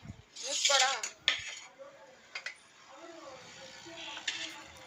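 Stuffed cluster beans drop into a cooking pot with a few close metallic clatters and scrapes, followed by softer intermittent knocks over a quiet background.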